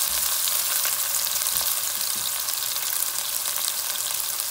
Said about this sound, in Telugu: ఒక పెద్ద ఆనియన్స్ కట్ చేసి ఇప్పుడు దీంట్లో వేస్తున్నాను ముక్కలు